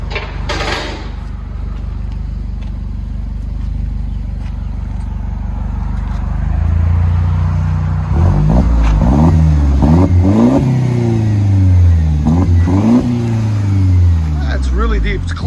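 A 2015 Mercedes C250 turbo with muffler and resonator delete exhaust idles with a deep drone, then revs repeatedly in rising and falling sweeps, loud and close, while someone talks over it.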